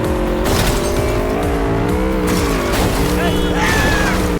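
A car in the video game Cyberpunk 2077 pivots on its back wheel, giving a steady engine drone with rising and falling harmonic tones and bursts of tire squeal. The sound is loud and continuous, with talk layered over it.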